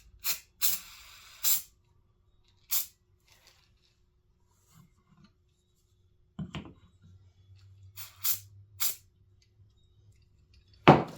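Gold glitter spray paint hisses from an aerosol can in several short bursts, with a few quieter handling rustles and a low hum between sprays.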